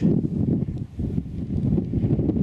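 Strong wind in Morocco buffets the microphone in loud, gusty low rumbles that rise and dip continuously, with no talking.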